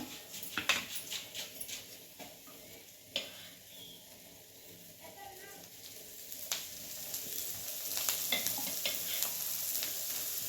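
Onion and chopped tomato frying in a little oil for a cabbage curry, a steady soft sizzle with scattered stirring clicks from the pan, growing slightly busier toward the end.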